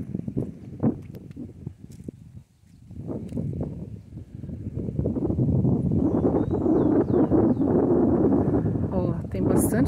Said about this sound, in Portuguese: Bastante vento.